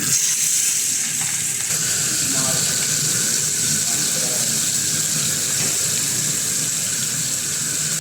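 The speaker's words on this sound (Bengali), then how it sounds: "আমার এখন অয়েল গরম হয়ে গেছে, আমি এখন মাছ দিয়ে দিই" Tengra fish fries in hot oil in a home kitchen, a steady loud sizzle and crackle that goes on without a break for the whole stretch, with no talk.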